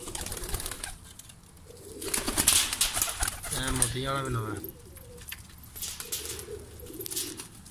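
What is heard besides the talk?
new pigeons cooing on the roof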